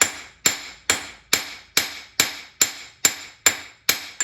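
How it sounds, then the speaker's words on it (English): Rapid, regular hammer strikes on hot metal while forging a dinner triangle, about nine crisp ringing clangs in a row, close and loud, with no talking. "So I'm just going to smash it down"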